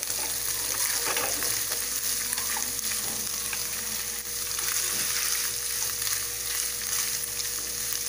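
Shredded chicken breast frying in a pan for chicken pastil, a steady close hiss and sizzle with faint stirring scrapes running unbroken throughout.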